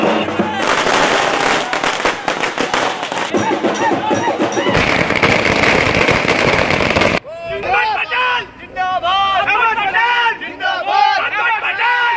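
Firecrackers burst in dense, rapid crackling volleys at a Congress party victory celebration with drums on a town's Station Road in 2017, loud and continuous for several seconds, followed by crowd noise and people talking.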